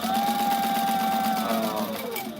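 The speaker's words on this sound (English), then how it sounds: "This is my sewing machine, so some of the gear, if you would order it, was probably sewn right here." A sewing machine stitches tactical gear in a steady, rapid mechanical whir, loud and close, with the motor pitch easing slightly toward the end.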